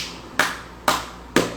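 Three sharp hand claps acted out by one person, evenly spaced about half a second apart, close and crisp with short decays, no talking.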